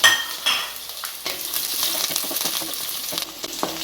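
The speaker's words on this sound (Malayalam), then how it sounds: "അതിലേക്ക് നമ്മൾ അരിഞ്ഞു വെച്ചിരിക്കുന്ന ചുവന്നുള്ളി, തക്കാളി, ഇഞ്ചി, വെളുത്തുള്ളി ഇതിട്ട് നമുക്കൊന്ന് വരട്ടാം" Chopped shallots, tomato, ginger and garlic sauté in a hot pan, giving a steady close sizzle broken by scraping stirring strokes, with no voices.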